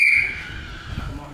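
A referee's whistle at a backyard boxing match: one short, sharp, loud blast at the start, fading into low background crowd noise.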